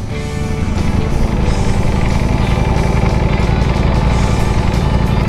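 A superbike engine runs loud and close, a steady dense mechanical roar with little change in pitch, more a sustained high idle than distinct revs.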